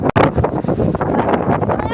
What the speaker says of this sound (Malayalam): നോക്കി എന്നാ കാറ്റ് നോക്കി. ഇതൊരു കാറ്റാണ്.